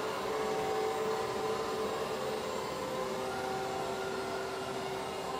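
An ECOVACS Deebot robotic vacuum running indoors, a steady, fairly quiet whirring hum with a faint whine on top that stays constant throughout, with no talking.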